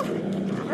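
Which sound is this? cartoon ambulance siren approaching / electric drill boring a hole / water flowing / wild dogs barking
wild dogs barking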